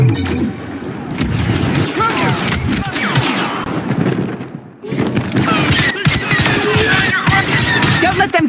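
Dense blaster fire rages in a Star Wars Battlefront 2 campaign battle at a gate, rapid overlapping shots and thuds filling the scene continuously, with a brief lull midway, under shouted voices.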